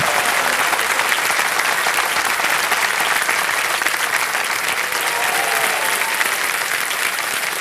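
Loud, dense studio audience applause on a televised quiz show set, a continuous wash of clapping held steady for the full stretch.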